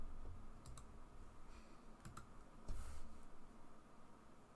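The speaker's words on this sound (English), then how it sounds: "That was me typing in chat, by the way." Typing on a computer keyboard in chat during a football video game, with scattered faint key clicks in small bursts over a low background hum and no talking.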